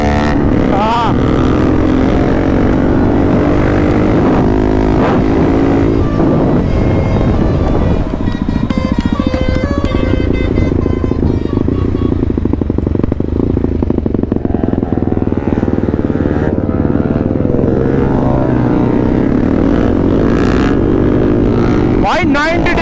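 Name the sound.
group of motorcycles with full system exhaust riding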